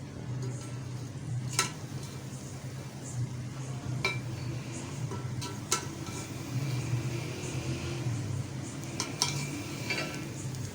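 Chicken tikka biryani being uncovered and served from the pot: metal clinks and scrapes of a lid and serving spoon ring out against the vessel over a soft background hiss, close by, with no talking.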